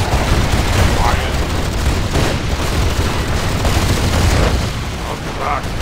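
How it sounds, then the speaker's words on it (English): Manticore unit firing in the Rise of the Reds real-time strategy game: a dense, continuous roar of heavy gunfire and booming blasts, with unit voices calling out beneath the barrage. "Manticore ready for the carnage! Fire!"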